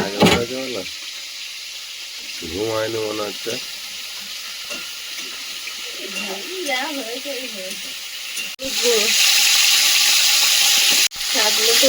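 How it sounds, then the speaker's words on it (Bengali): Mixed vegetables with green chilli and chopped onion being stirred in a pan, giving a steady sizzle that grows louder and harsher toward the end, with voices talking over parts of it. "কাঁচা লঙ্কা পেঁয়াজ কুচি সবজিটা নেড়ে চেড়ে ঢাকা দিয়ে দেবো"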